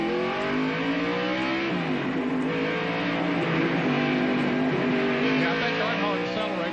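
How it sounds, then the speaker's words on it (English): NASCAR stock cars race at North Wilkesboro in 1994, heard from an in-car camera: a loud, continuous engine roar with shifting revving tones, plus the whine of other cars running close by. "here is the view from Mark Martin's in-car camera right behind Earnhardt"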